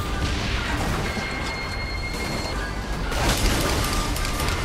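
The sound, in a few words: explosions in a video game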